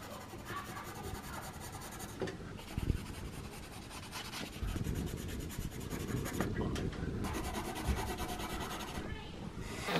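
Continuous scratchy rubbing of an orange colouring pencil shading across paper, close up, in steady back-and-forth strokes with brief pauses.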